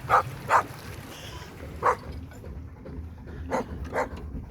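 A dog barks in a handful of short, separate yaps spread unevenly over a few seconds, fairly faint and somewhat distant against a quiet outdoor background.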